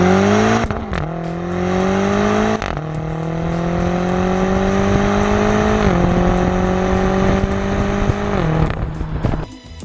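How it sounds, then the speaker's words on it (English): 2017 BMW X5M twin-turbo V8 accelerating hard, a loud rising engine roar climbing through several gears with a sharp dip at each upshift, close and continuous. "the X5M comes equipped with the M5's twin-turbo V8"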